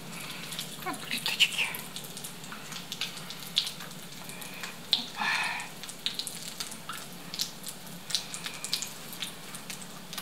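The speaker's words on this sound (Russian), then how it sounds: "Будем жарить." Breaded cutlets sizzle and crackle in a pan, a soft continuous hiss broken by scattered pops and spatters, fairly quiet and close.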